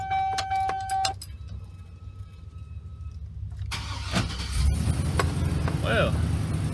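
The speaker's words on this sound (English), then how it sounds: "Let's crank her up and see if she runs." A Chevy Express 3500 van with a replacement engine and 500,000 miles cranks and fires up, then settles into a steady idle, close and fairly loud with some faint talk.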